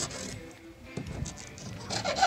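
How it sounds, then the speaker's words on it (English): A metal blade scrapes burrs off the corner of freshly cut wood on a chicken coop base, making a few short, soft rubbing scrapes close by. "you take a metal blade and get in there and you can clean that up so you have a clean corner"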